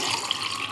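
Tap water runs steadily into a water bottle in a short burst of close, hissing splashing, with no talking.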